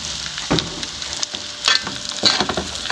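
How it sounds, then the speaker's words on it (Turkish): Mushrooms and onion fry in a pan with a continuous close sizzle, broken by three louder stirring scrapes at regular intervals; no voices. "Baxın xanımlar, markotla soğan qovrulur."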